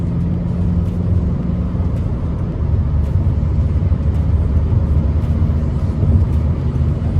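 A Volkswagen Passat B8 R-Line 2019 with a 2.0 TDI engine and DSG gearbox driving, a steady low interior drone of engine and road noise, even and continuous with no talk.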